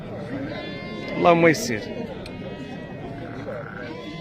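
At a Moroccan livestock market, a sheep gives a single short, close bleat amid crowd murmur, while someone speaks briefly nearby.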